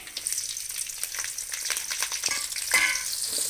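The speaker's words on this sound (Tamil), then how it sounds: "எண்ணெய் ஊற்றிக்கிறோம் கடுகு போட்டுக்கலாம் பச்சை மிளகாயும் கருவேப்பிலையும் போட்டுக்கலாம்" Mustard seeds, green chillies and curry leaves sizzle and crackle in hot oil in a kadai, a steady close frying hiss with scattered pops and a brief louder burst near the end, no voices.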